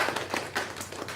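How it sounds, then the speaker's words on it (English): An audience at a book award and author reception claps, giving a handful of scattered, uneven claps in quick bursts rather than a full roar. "Round of applause"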